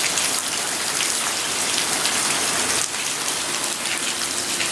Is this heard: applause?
no